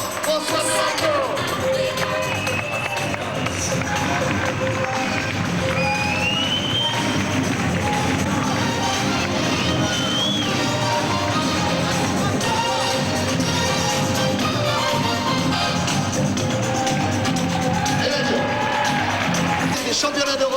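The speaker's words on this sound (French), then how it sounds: "il faut applaudir très fort François Pénaquio" A large arena crowd at the 1990 European fencing championships cheers, whoops and claps for fencer François Pennacchio, a dense sustained roar over the full stretch with shouts rising above it.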